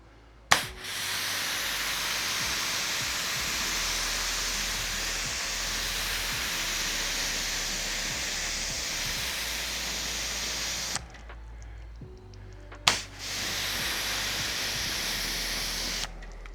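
A spray bottle mists water onto a car body panel during a wet detailer wax-while-drying wash: a long, steady hiss of spray broken by brief pauses and sharp trigger clicks, fairly close and without talk.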